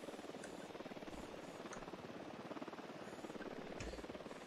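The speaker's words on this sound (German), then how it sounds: "Die Helis immer, ne? Das sind die schlimmsten." Helicopter in the video game Ghost Recon Wildlands, a steady close rotor thrum with rhythmic blade chop holding at even loudness throughout, no talk over it.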